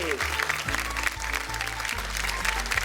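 Loud studio audience applause at a televised Marathi women's game show, a dense steady wash of clapping with music or speech tones running underneath throughout.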